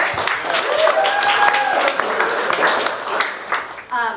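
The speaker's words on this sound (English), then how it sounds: "Big round of applause for everyone here, all the volunteers that we've had so far." Audience applause at a No on Measure O campaign kickoff event for volunteers, a mix of scattered claps and crowd noise with some voices and a brief whistle-like tone running underneath.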